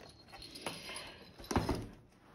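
Female dog moving about in a living room, with soft whimpers, jangling and light thumps, faint and scattered, no talk.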